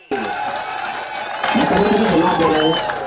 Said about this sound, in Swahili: Wapi makofi mazuri ya His Excellency.